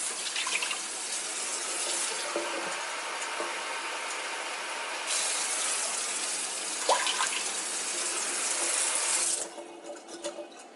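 Boiling water pours steadily in a continuous splashing stream, shifting in tone partway through and then tapering off near the end.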